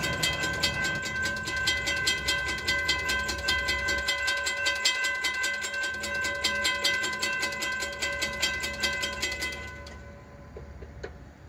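A CSX freight train rolls past near West Palm Beach, with steady rail noise, rhythmic clicking of wheels over track joints and a high metallic ring, loud and continuous before fading suddenly near the end.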